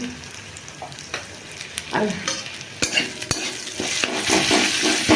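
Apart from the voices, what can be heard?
frying and stirring spice masala with chili powder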